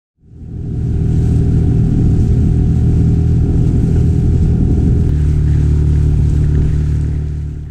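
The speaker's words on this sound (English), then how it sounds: "We had both brought lightweight 6 horsepower outboards" A small 6-horsepower outboard motor on a small boat on Loch Awe drones steadily at close range, a low, even rumble that holds for the whole stretch without talk.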